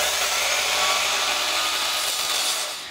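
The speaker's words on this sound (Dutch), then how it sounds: "zaag je een hulplatje wat de hoogte heeft van de vaatwasser" A wooden batten being hand-sawn to dishwasher height during kitchen base cabinet installation: steady, close, rasping strokes that run continuously and loud for about three seconds, alone with no talk.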